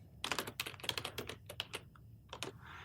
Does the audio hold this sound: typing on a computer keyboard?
yes